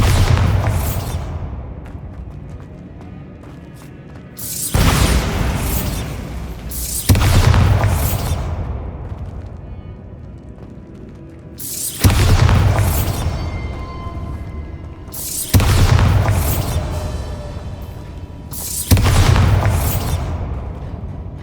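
Bombarda spell blasts in Hogwarts Legacy on PS5, a series of six heavy booming explosions arriving every few seconds, each a loud deep crack that rolls into a long rumbling decay before the next hits.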